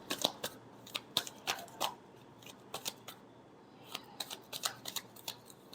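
Tarot cards are shuffled in a quiet room, giving a series of soft, crisp riffling and snapping bursts at an irregular rhythm, fairly faint and close.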